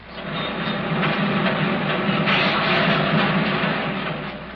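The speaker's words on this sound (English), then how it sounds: "In the factories." Continuous loud factory machinery, a dense mechanical churning and rattling that holds steady throughout.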